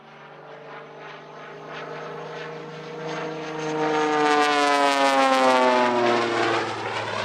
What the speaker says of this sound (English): Pratt & Whitney 985 radial and a General Electric CJ610 jet turbine